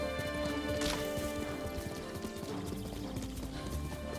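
A horse gallops in Ghost of Tsushima, its steady rapid hoofbeats running under a bed of gentle game music and nature ambience, with no talk.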